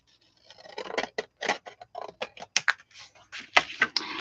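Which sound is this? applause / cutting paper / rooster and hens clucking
cutting paper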